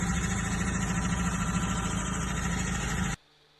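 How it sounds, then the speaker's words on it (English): A car engine idling with a steady low hum and rumble, close by, then cutting off abruptly near the end. "That was the sound of my engine."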